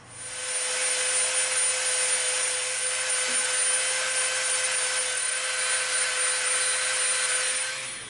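A power tool bevels the edges of an EVA foam piece with a steady, close, high whine that holds at a constant loud level throughout, with no talk over it.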